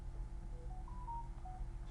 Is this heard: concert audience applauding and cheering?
no